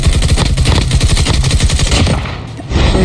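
KN-44 rifle fire in a video game: loud, rapid automatic bursts of close gunshots rattle almost without a break. There is a short dip before the firing resumes.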